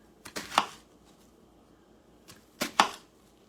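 A kitchen knife slices straight down through an onion on a board in two quick crisp bursts of two or three strokes each, separated by a pause, close and fairly quiet.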